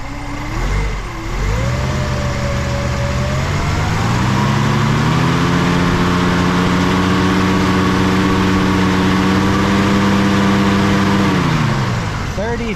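A 1967 Chevrolet Nova engine idles at roughly 600 RPM, a steady, close low rumble that climbs in pitch briefly early on and then holds level before dropping near the end, with no talk over it.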